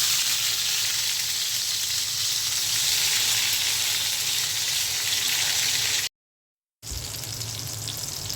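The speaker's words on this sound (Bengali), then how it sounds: "বেগুনটা ভেজে নিচ্ছি।" Eggplant (brinjal) slices rubbed with turmeric and chili sizzle steadily in hot oil, a loud continuous frying hiss close up, with a brief gap of silence near the end.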